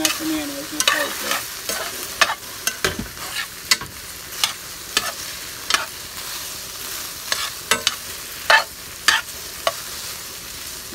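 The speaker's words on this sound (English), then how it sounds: "Coming back over here to the okra, stirring the okra up." Okra frying on its own in a pot is stirred with a utensil: a steady soft sizzle runs under sharp scraping and clacking strokes that come irregularly every second or so, close by.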